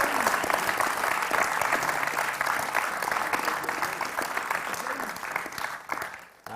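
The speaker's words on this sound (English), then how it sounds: "give a round of applause for Alex for that" An audience claps for scholarship speaker Alex at a CSItizen event, producing dense, steady applause close by that runs for several seconds and thins slightly toward the end.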